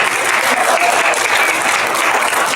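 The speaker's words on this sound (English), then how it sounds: "do you all want to clap for yourselves?" A church congregation at its annual meeting claps together, a dense, even burst of applause heard up close and sustained throughout.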